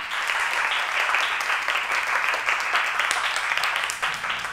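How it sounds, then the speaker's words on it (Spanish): Steady, dense audience applause at a televised quiz show for students, sustained and loud throughout without pause. "Un fuerte aplauso para ellas."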